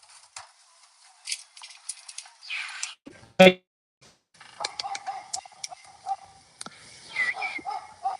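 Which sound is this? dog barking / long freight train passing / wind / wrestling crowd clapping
dog barking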